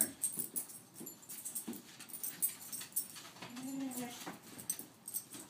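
Dogs in a home, heard as soft whimpers, yips and panting that come in short uneven bursts at low level, with faint background voices now and then.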